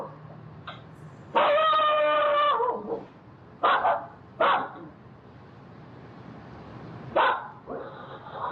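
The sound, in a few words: guard dog barking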